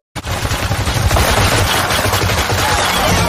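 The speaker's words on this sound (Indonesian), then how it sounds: "pesawat tersebut kembali dan melepaskan tembakan yang tak sengaja mengarah ke wilayah konsesi dan" Rapid machine-gun fire from a Japanese warplane in a Chinese-Japanese war film battle scene, a loud, dense burst of shots rattling continuously from start to finish with no speech.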